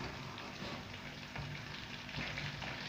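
Chicken pieces sear in a hot pan for a curry, making a dense, continuous close sizzle and crackle that holds steady throughout with no voice.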